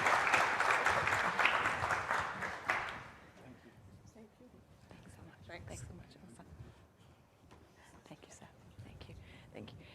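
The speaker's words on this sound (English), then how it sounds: "Can we give a round of applause to our panelists," Audience applause for conference panelists, a dense burst of clapping for about three seconds that cuts off abruptly, followed by quieter room noise with scattered voices and a few stray claps.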